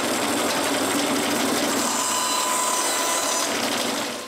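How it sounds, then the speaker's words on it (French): A large power saw cuts through plywood with a loud, continuous, coarse whirring rasp, close by and unbroken, fading slightly at the very end. "la lame que j'ai sur ma grosse scie, elle fait pas une très belle coupe sur du contreplaqué"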